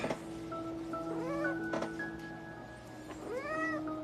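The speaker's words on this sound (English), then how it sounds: "She is a very angry kitty." An angry cat meows repeatedly, a few drawn-out, rising and falling cries with short gaps between them, close by and fairly loud.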